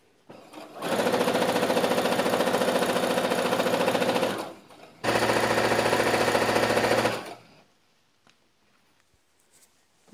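A sewing machine runs straight stitches joining salwar pieces, two steady whirring bursts of about three and a half and two seconds with a brief pause between, loud and close, then quiet.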